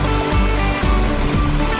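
A small backyard waterfall pours steadily into a pool beside a patio, a close, broadband rushing splash with a gently pulsing low churn.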